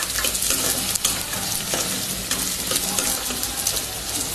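Onions sizzle steadily in a pan with a paste of mint, green chilli and ginger-garlic, stirred now and then with faint scraping clicks, close and fairly loud throughout with no talking.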